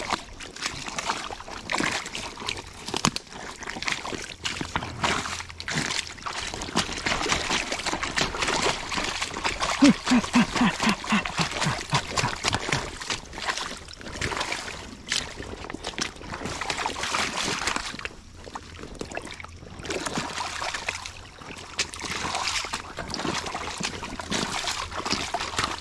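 Creek water trickles and gurgles through a broken beaver dam, a steady low rush with splashes and clatter nearby, while people talk over it at times.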